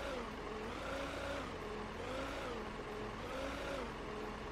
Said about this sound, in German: Startet die Motoren!